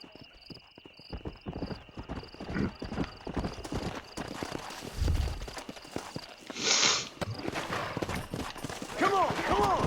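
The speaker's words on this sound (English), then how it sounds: "deixa-me chamar o cavalo" A horse in Red Dead Redemption answering its rider's call, hooves clip-clopping closer in a quickening rhythm with snorts and a whinny, over game ambience and a shout, with someone talking quietly at times.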